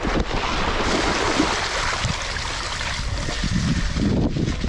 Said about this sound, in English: Oh look, there's the puddle. Guaranteed to get wet.